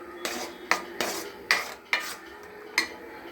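A spoon stirs a thick mixture cooking in a pan, with six rhythmic scraping strokes against the metal, each ending in a faint clink, over a soft background sizzle.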